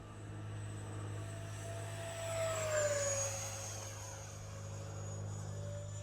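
An H-King FlyCat V2 70mm 12-blade 6S EDF RC jet flies past with a steady high-pitched ducted-fan whine that swells and dips in pitch as it passes, over a constant low hum.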